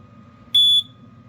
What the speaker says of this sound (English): It will make a quick beep once it's done resetting.